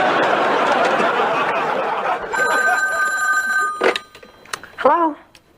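A telephone rings in a home, a bright repeated bell that starts midway through, preceded by talk and laughter and followed by a voice.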